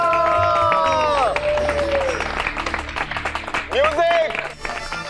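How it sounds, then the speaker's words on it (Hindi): An audience claps and cheers at a family dance performance, with steady dense applause and crowd noise under a loud voice and musical tones. "तालियां!"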